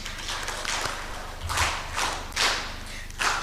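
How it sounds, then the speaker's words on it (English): An audience at the East African Civil Society Summit claps in a few sparse, separate bursts, fairly faint and spread out, with no talking over it. "Until he reaches here, we're just going to keep clapping."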